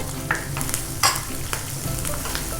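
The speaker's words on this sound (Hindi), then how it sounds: "इनको हमने बस 2 मिनट इस तरह से फ्राई करना है, बहुत ज़्यादा देर नहीं।" Chopped almonds, pistachios, raisins and dried dates fry in a pan for Eid sheer khurma. A soft, steady sizzle is broken by a few scraping stirs and clinks of a spoon, with no talk.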